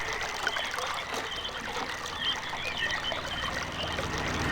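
Water flowing in RealMyst, a steady soft trickling and splashing stream, continuous and moderately faint with no voices.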